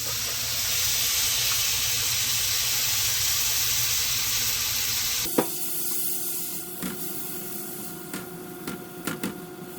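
Water poured into a pan of sizzling taco seasoning mix for nachos, a loud steady hiss that cuts off abruptly and gives way to quieter bubbling with occasional pops.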